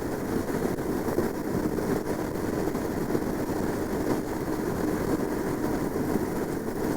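Royal Enfield Himalayan motorcycle held at about 5,500 RPM on a US highway, a steady, loud engine drone blended with rushing wind, even and unbroken from start to end with no talk.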